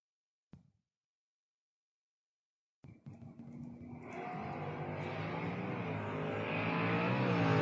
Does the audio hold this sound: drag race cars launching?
yes